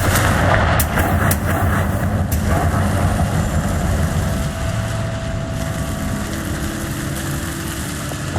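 In the video game Hogwarts Legacy, the Confringo blasting spell goes off with a loud, booming impact and sharp cracks up front, settling into a rumbling roar that fades over several seconds.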